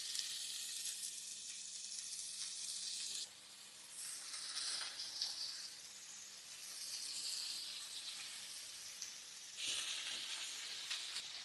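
Prawn skewers, Indian style, sizzle in hot oil in a pan with a steady, close, bright hiss that dips briefly and swells again, no voices over it.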